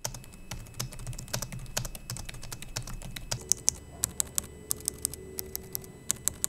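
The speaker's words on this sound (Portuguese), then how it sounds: "keycap que é eles chamam de Mag Click, que vai te dar a sensação de um teclado mecânico" Typing on the Acer Predator Helios 16 laptop keyboard fitted with Mag Click mechanical-feel keycaps, a quick run of crisp, close keystroke clicks, denser at first and then louder and more spaced out.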